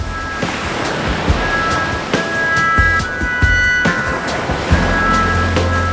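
Sea waves roll onto the sandy beach at Kovalam, with loud, continuous surf and repeated crashing swells, close and full, mixed with some wind and no voices.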